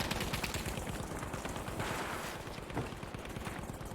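Rapid gunfire from a World War II shooter video game, a steady stream of dense automatic shots that stays fairly even and moderately loud throughout, with no talking.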